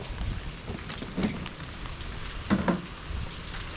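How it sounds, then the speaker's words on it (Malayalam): Steady monsoon rain at Agumbe hisses throughout, a soft continuous patter with a few slightly louder splashes, no voices. "നല്ല മഴ വീണ്ടും തുടങ്ങിയിട്ടുണ്ട്"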